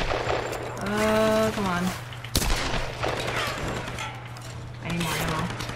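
Gunfire in a Tomb Raider firefight against shielded enemies: a sharp shot crack stands out midway among bursts, mixed under a voice talking over the action.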